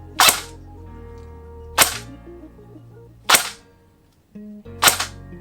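Four crisp single shots from an ICS airsoft gun, spaced about one and a half seconds apart, each a close, sharp pop with a short mechanical click and a faint whir after it, no talk over it.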